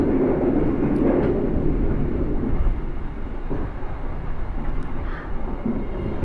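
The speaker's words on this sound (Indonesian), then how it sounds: "ini lagi di kereta, jadi memang agak bising ya" Loud, steady rumbling roar inside a moving train carriage, with faint rattles and clicks throughout and no voices.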